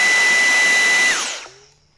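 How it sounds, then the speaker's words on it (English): A Dyson vacuum cleaner runs at a loud, steady whine after its filter has been cleaned, then is switched off and winds down to silence. "let's go ahead and plug this back into our vacuum"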